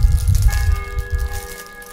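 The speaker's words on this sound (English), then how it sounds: "it's astounding how quickly they can repair a bell tower and how quickly they can get a stereo electronic bell ringing" An electronic stereo bell rings from a repaired church bell tower, sustained clear tones with lingering harmonics over a rumbling low background, loud and alone.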